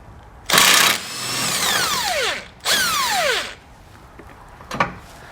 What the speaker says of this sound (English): We'll use an 18mm socket and wrench to remove them